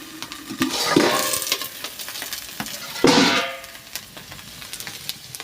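Vegetable curry being stirred in a pot over a wood fire outdoors in a village, two louder bursts of scraping and sizzling rising over a soft, steady crackle and background hiss.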